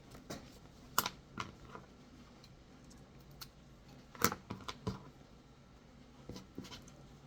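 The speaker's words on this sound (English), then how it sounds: "I'm just gonna kind of measure down and cut it off to the length" Scissors snipping elastic cut to length for shirring: a few sharp, separate clicks and snips spread unevenly through a quiet room, with short pauses between cuts.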